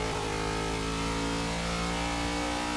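The Ford Falcon GT Mad Max Interceptor revs hard in Forza 6, its engine a dense, loud, steady roar with rich harmonics throughout.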